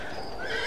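A horse whinnies in one short, close, fairly loud call with a rising, wavering pitch over a low background rumble.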